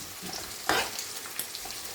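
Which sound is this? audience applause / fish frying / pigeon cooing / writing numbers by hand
fish frying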